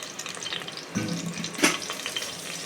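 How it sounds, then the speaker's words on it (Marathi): Onion and whole spices go into hot ghee for a veg pulao tempering, making a soft, steady sizzle close by that flares in two brief louder bursts as they hit the fat. "आता डायरेक्टली आपण फोडणी देणार आहोत"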